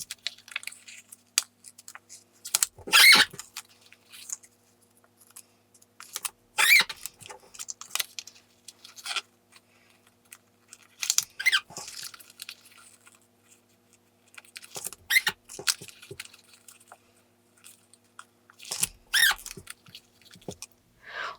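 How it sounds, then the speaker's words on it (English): A small cut-out paper box is creased and folded along its printed lines, giving repeated soft crinkles and crisp paper snaps in short bursts separated by quiet pauses, close and alone. "After it's cut out, I fold on all the lines."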